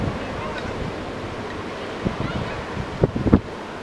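Sea waves at Nglambor beach wash in as a soft continuous surf hiss mixed with wind rumble on the microphone, with a few louder thumps and bursts near the end.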